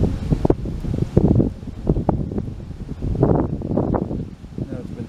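Wind gusts across the microphone on a windy day of carp fishing, a continuous low rumbling buffet with rustling. A person talks throughout.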